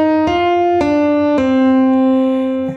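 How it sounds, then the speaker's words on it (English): A five-note theme from Into the Woods is played as clear, separate pitched notes, each attack sharp and ringing, the final note held before it cuts off. "what we're talking about here is this five note motive"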